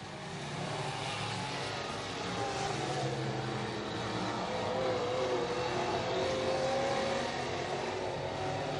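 Race cars, including the leading number 03 car, roar down the backstretch of an oval track in a steady, loud, continuous engine drone that swells slightly toward the end, with no talk over it.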